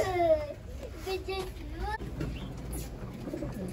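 Racing pigeons coo softly in a loft, a few low rolling coos at a moderate distance, with someone talking and children's voices in the background.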